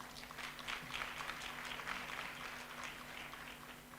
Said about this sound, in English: I'd like to applaud him for that